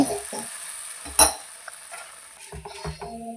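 Fish sambar masala with water being stirred in a pot, a ladle scraping and clinking against the metal in a few separate strokes, with one sharp clink standing out among them and no talk.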